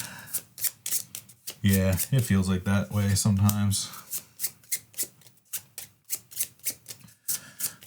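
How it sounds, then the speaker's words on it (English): Playing cards for a board game are shuffled by hand close to the microphone, a rapid run of crisp riffling clicks that continues steadily, while someone talks briefly over the first half. "All right, we're shuffling."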